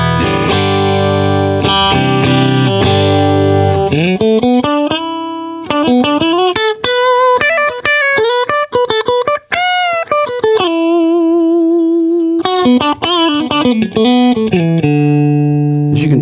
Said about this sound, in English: let's add a little Bloody Pulp here and see what it does to the sound here.